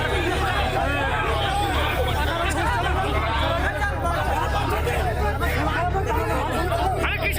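Dense hubbub of a chaotic street crowd in Kharagpur, West Bengal during election campaigning, many overlapping voices arguing and shouting at once, steady and loud throughout with faint traffic underneath.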